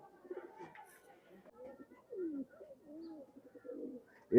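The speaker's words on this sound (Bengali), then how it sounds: "এটা হচ্ছে আমার একটা খুবই পছন্দের কবুতর" Old-bloodline Khulna pigeons coo softly at close range in low, rolling bursts, with a faint chirp near the start.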